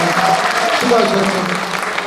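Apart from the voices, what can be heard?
audience applause in a school gymnasium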